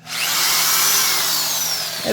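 Harbor Freight Bauer 3/8-inch compact angle drill with a 3.5 amp, 1300 RPM motor, running steadily at full speed with a continuous high whine and a low hum, alone and close by.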